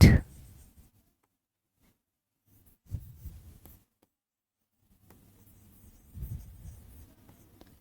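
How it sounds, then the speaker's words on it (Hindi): Marker or chalk drawing a line and writing on a classroom board, short scratchy strokes in two separate bursts with quiet gaps between them. "मैं जरा यहां पर लाइन खींचती हूं और लिखती हूं"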